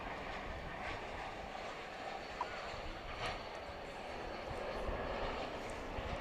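An airplane flies at Dallas-Fort Worth International Airport in the evening, a faint, distant steady engine roar under broad ambient noise, with soft voices now and then.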